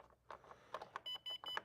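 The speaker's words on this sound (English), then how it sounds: "See that beeping? That's like I'm taking the safety key in and out." A Sole treadmill console beeps as its safety key is pushed in and pulled out: a few soft clicks and short bleeps, then three longer electronic tones in quick succession, close and fairly quiet.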